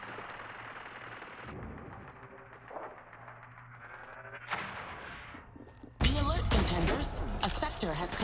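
Enemy gunfire in the shooter Hyper Scape, sharp bursts and impacts scattered through busy game sound, growing louder and denser toward the end, with a voice speaking at times.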